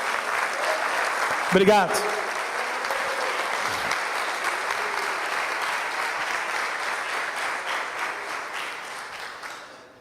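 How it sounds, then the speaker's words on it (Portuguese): A church congregation breaks into sustained applause, a dense, even wash of many hands clapping that tapers off toward the end, with a brief spoken word near the start. "Vamos aplaudir esse homem de Deus."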